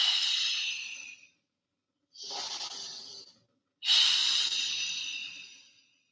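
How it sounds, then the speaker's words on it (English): Deep, slow breathing during a yoga session, three long airy breaths close to the microphone, each fading out and separated by short silences. "3 more breaths, expanding in your breathing."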